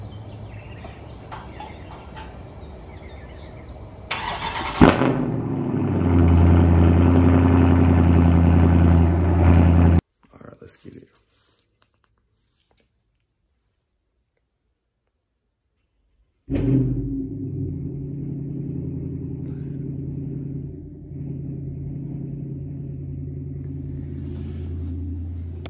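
A 2022 Dodge Charger Scat Pack with mid-muffler and resonator delete and 5-inch tips cold-starting: a loud burst into a deep rumbling idle, a stretch of near silence, then a second loud start settling into a steady throaty idle.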